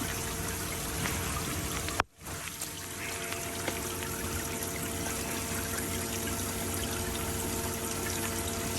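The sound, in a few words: water flowing through oil containment wall box flow test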